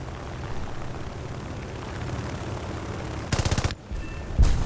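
Aircraft machine guns firing in War Thunder from a BF2C-1 biplane, two sharp bursts of rapid rounds cutting over a steady propeller engine drone, the first lasting about half a second and the second brief and loud.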